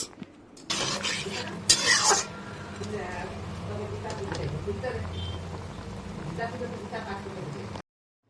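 Fried small fish are stirred into simmering onion and potato curry in a pan, with a brief bright scraping burst early on, then a soft continuous bubbling and sizzle, with a voice speaking over it.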